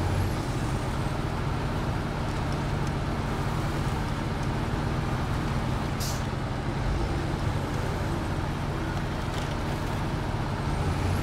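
Modded heavy truck pulling an off-road M747 trailer in SnowRunner, a steady low diesel engine drone, loud and continuous, with a brief hiss of air partway through.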